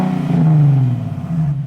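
Nissan 370Z Nismo with a modified exhaust revving up, a deep, low, non-raspy engine tone swelling loud and close for a second or so, then easing off and rising again.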